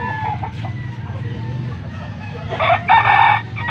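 A yellow-legged rooster crows loudly nearby at a market, its call rising toward the end over a low background hum and scattered farmyard noise.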